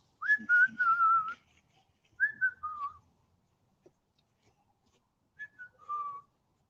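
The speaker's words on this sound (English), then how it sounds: "Will you copy Steve's whistle?" Three short whistled phrases, each a few falling notes, separated by pauses of quiet; clear and close, with no talking.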